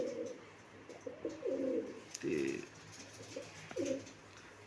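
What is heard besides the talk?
pigeons cooing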